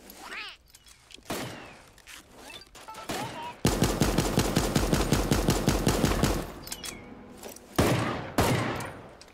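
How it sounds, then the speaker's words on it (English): A burst of sustained rapid machine-gun fire rips out in a game firefight as people shoot, loud and continuous for several seconds, framed by shorter scattered shots before and after. "They're shooting at us."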